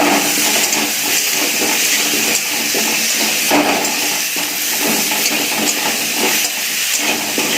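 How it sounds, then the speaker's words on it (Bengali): Potatoes fry in a hot pan in a home kitchen, a loud, continuous close-up sizzle and hiss with small crackling pops throughout. "চলো আলুটা ভেজে নিতে থাকি"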